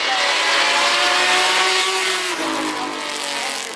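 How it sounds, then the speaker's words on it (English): A Ferrari race car with a large supercharged and turbocharged engine pulls away at the Goodwood Festival of Speed, a loud, close engine whine rising in pitch, then easing and fading slightly as it moves off, with no voices. "And the Ferrari heading out, the number 160, and Mason in the Ferrari 9-litre."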